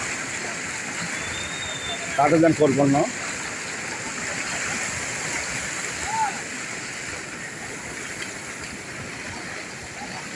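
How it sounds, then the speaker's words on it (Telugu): Steady broadband roar of a fast-moving flooded stream, loud and continuous, with a brief voice rising over it midway. "చూడండి, బాగా వస్తుంది వాగు"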